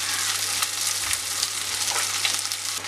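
Karimeen fish fries in a pan with a dense, even sizzle that crackles steadily, close and fairly loud, with no voices over it.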